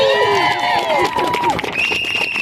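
An outdoor crowd at a composting rally in City Hall Park claps and cheers. The scattered applause is mixed with whoops and a whistle, and a voice speaks over it.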